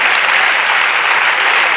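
An audience at an awards ceremony applauds, a dense, even wash of clapping that holds steady and loud for the full stretch, without speech.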